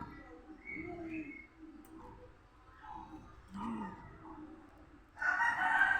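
A rooster crows a few times against soft clucking, with a louder, closer burst of chicken calls at the end; muffled voices murmur faintly beneath.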